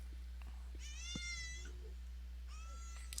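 A pet cat meows twice near the microphone, one long drawn-out call and a second shorter one, over a steady low electrical hum with faint background noise.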